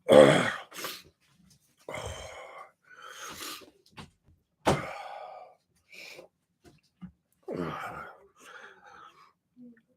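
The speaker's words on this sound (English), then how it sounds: "Never before have I had such an annoying bloody cough" Several short, harsh coughs and throat-clearing bursts, close and fairly loud, separated by pauses with a few breathy sounds in between.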